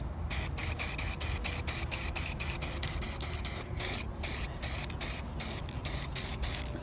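Aerosol spray paint hisses from a can held close in a series of about a dozen short, evenly spaced bursts, each separated by brief silence.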